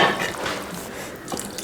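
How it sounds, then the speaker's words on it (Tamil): Water being poured into cooking sambar, giving a brief, close splashing trickle that lasts under two seconds, with no talking. "ரொம்ப கெட்டியாக இருக்கனால இன்னும் கொஞ்சம் தண்ணி ஊற்றிக்கலாம்"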